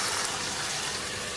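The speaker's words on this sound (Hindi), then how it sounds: "1/4 प्याली पानी की डाल देंगे।" A quarter cup of water poured into chicken cooking in a pan, a brief, close, hissing gush that fills the moment evenly from start to end.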